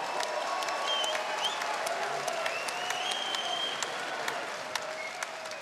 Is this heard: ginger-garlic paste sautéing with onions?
no